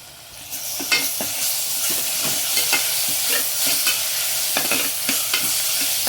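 Onions with ginger garlic paste fry and are stirred in a pan, a loud, close, continuous sizzle broken by frequent quick spatula scrapes in a loose rhythm.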